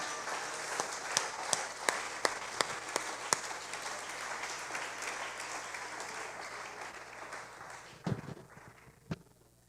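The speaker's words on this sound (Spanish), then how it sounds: "Dele un aplauso a la vida." A church congregation applauds, with the clapping swelling into a sustained crowd patter and a few sharp, louder claps standing out near the end.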